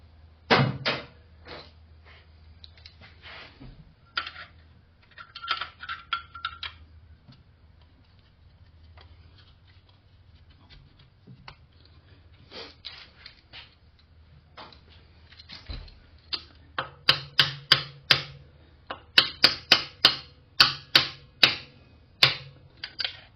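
Sharp plastic-handled tool taps against a pulley being seated onto its bolt in a car engine bay, scattered light knocks at first, then a quicker run of louder, close, evenly spaced taps near the end.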